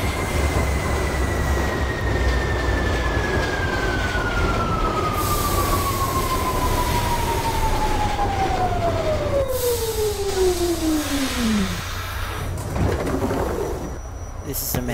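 Simulated New York subway Q train in the OpenBVE game, a loud steady rumble of wheels and motors with a long descending whine sweeping down as the train slows, then a brief squeal near the end.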